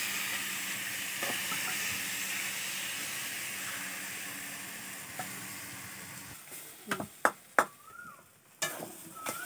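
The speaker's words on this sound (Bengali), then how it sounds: "এবার কচু শাকটা আমরা ঢেলে দেবো।" Taro leaves poured into a pan of hot cooked spice mixture, giving a steady frying sizzle and hiss throughout, followed by a few sharp clatters and stirring knocks near the end, with no talking.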